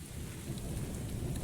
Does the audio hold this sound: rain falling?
yes